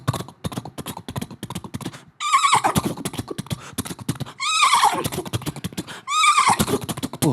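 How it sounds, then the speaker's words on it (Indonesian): Three loud horse neighs from a sound effect ring out in turn, each a shrill descending whinny, over a steady rhythmic clip-clop of hooves. "Wah, sound efek kudanya mirip banget."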